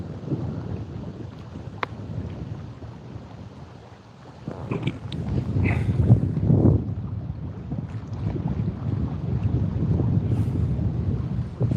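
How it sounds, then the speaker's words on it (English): Strong wind buffets the microphone while kayak fishing on Lake Erie, a steady low roar that swells louder midway and keeps rumbling with gusty surges throughout, with no talking. "This wind is no joke right here"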